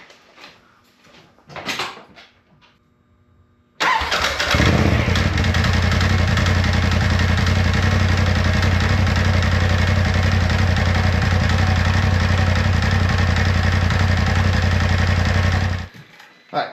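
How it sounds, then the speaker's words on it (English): A Polaris Pro XP engine with a troublesome clutch cranks briefly, then catches and runs at a loud, steady idle for about twelve seconds before cutting off. "All right, crank it back up and see what we got."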